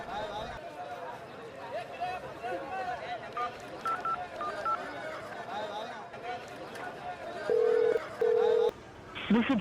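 Telephone keypad tones sound in short beeps, followed by a couple of longer steady tones near the end, over ongoing talk and background chatter.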